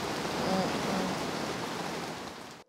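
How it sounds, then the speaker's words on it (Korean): Steady rain hisses evenly and fairly close, a constant wash of noise with a faint voice briefly heard under it. "잠깐 앉아있다 갈래요, 빗소리 듣고?"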